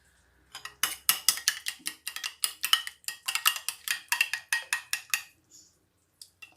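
A spoon beats yogurt in a bowl for jalebi batter, making a brisk, even run of crisp clicking taps that lasts several seconds, then stops with a couple of stray knocks.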